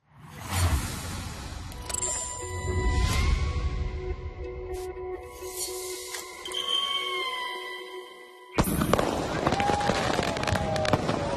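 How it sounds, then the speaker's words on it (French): New Year fireworks launched from the Burj Khalifa in Dubai: booming bursts and crackling amid whistling tones and crowd noise, loud and dense, with a sharp fresh barrage near the end. "un feu d'artifice toujours plus fou du haut de la célèbre Burj Khalifa"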